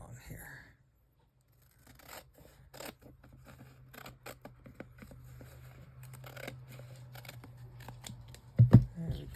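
Scissors cut along a book page being made into tags, giving soft, scattered snips and paper rustles close by over a faint steady hum, with a louder handling noise at the end.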